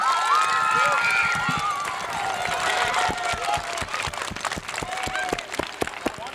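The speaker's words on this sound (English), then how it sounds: "Can we give them a big round of applause?" A burst of elementary school children's applause and cheering at a beam topping ceremony, loud at first, then thinning into scattered claps and excited voices.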